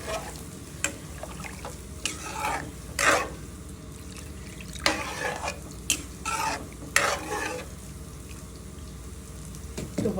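Spice paste for a hilsa fish curry with taro, pointed gourd and ridge gourd fries in a pan, with soft sizzling under scattered scraping stirs and clinks, then water poured in.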